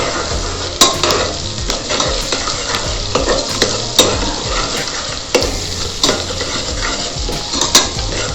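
Vegetables for veg pulao frying loudly in a pan, a dense continuous sizzle with repeated scraping and knocks of a utensil against the metal, close and without talk.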